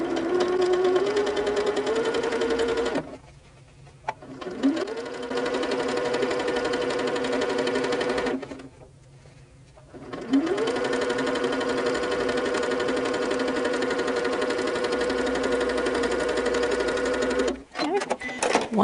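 A sewing machine stitches large fabric pieces for a Valentine's project in three long close runs, its motor whir rising in pitch at each start and broken by two short pauses.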